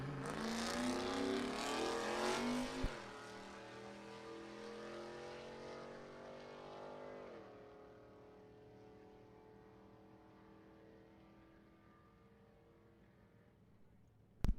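Firebird drag race car launching at a drag strip, a loud roaring engine whose pitch sweeps and fades as the car pulls away down the track, distant by the end.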